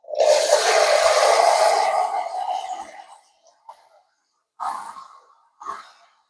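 Water pours in a loud, steady rush into a Thermomix bowl holding rinsed rice for about three seconds, tapering off, followed by two short, softer splashes.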